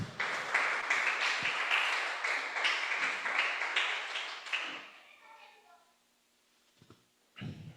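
A church congregation breaks into dense, sustained applause for nearly five seconds, which then fades out. A voice follows and begins speaking.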